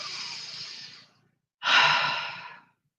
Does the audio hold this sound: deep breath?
yes